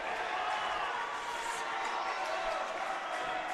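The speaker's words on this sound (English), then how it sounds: "You hear Roseburg up, clapping" Roseburg fans clapping and cheering in the stands at a 6A Southwest Conference district wrestling finals match, a steady, dense crowd roar with clapping blended in throughout, fairly distant and continuous.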